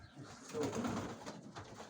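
Pigeons cooing softly at moderate distance, low throaty murmurs blending together in a steady, continuous stream, in a pigeon loft in Mykolaiv.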